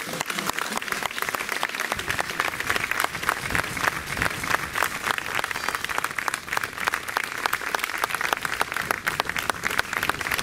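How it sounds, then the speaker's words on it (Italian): Dense, continuous applause from mourners outside a church as a coffin is carried out after a funeral, many hands clapping at an even, sustained level throughout. "All'uscita della chiesa il feretro è stato accolto da un applauso da parte di tutti i presenti"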